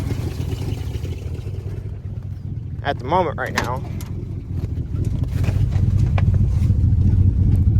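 A 1971 AMC Matador idling after a cold start on an 8° morning, a low, steady engine rumble throughout, with a brief burst of higher squeaky sounds near the middle and the idle growing slightly louder toward the end.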